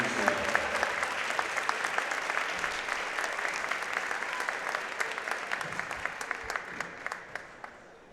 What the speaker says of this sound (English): if you could please give one more round of applause for all our seniors